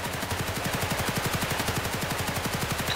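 Rapid sustained automatic gunfire in the video game Helldivers, a steady fast rattle of shots running continuously, loud and dense throughout.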